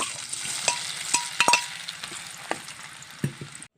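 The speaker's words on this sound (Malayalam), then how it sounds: "ഇനി നമുക്ക് ആ ക്യാരറ്റും കൂടി ഒന്ന് വറുത്ത് വരിയെടുക്കാം" Carrots fry in oil, sizzling steadily in a pan, broken by several sharp clinks of a utensil stirring against metal.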